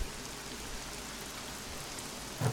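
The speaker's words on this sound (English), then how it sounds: "We have rain." Rain falls in a steady, even hiss of drops on a surface, soft and continuous, with a brief louder bump near the end.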